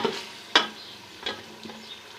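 Mutton and potatoes fry in ghee in a pot: a few soft, sharp scrapes from stirring sit over a faint, low sizzle in a quiet kitchen.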